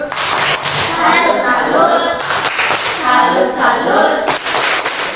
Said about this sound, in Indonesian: mari kita kasih tepuk salut untuk kelompok berber